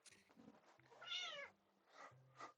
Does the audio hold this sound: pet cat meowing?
yes